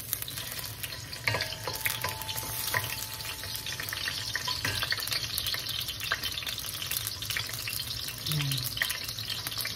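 Ginger sizzles steadily in a hot pan as the sauté base for sinigang sa miso with milkfish, a continuous moderate frying hiss with occasional stirring clinks.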